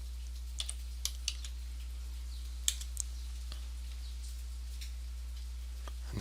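Light, sparse keystrokes tap on a computer keyboard in a quiet room, a handful of isolated clicks over a low steady hum.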